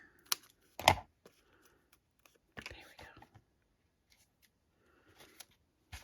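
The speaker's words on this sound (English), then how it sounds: "I'm going to cut a piece off the edge here" Scissors snip a piece off the edge of sparkly gold craft paper in a few quiet, separate cuts, close by, with light handling rustles in between.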